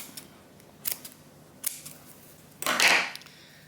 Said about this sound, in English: I'm going to cut a long piece of the sock just to make his scarf